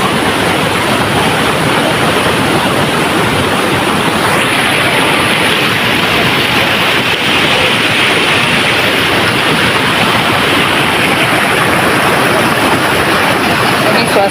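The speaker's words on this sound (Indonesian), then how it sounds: "suasana sungai di Kampung Rimba" A swift, fast-flowing river at Kampung Rimba campground rushes in a loud, unbroken wash of water noise, steady and close for the whole stretch, with no voices heard.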